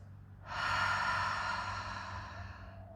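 A slow, unforced exhale released after a held breath in a breathing exercise, a soft airy breath that swells, stays steady for about two seconds, then gently tapers, heard close and alone.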